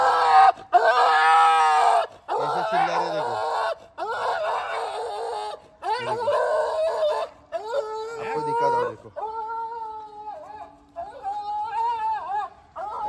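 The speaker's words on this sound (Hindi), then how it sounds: "जैसे ही कुछ हमने किया ऐसे चिल्ला रहे इतना अच्छे अच्छे लैब के पपीज" Several Labrador-like puppies cry and yelp in high, wavering whines and squeals, in repeated bursts of one to two seconds separated by brief pauses, close by and loud.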